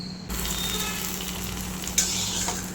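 Cashews fried in hot ghee are poured into simmering milk payasam, bursting into a loud, steady sizzle that runs throughout, with a sharp crackling flare near the end; no voices.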